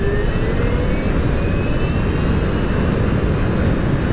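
A 96-volt electric vehicle accelerates at full throttle, a steady, loud rushing roar of wind and road noise with a faint rising motor whine running through it.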